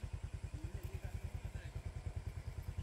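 A motorcycle engine on a muddy road thumps in a fast, even pulse, quiet and steady for a few seconds.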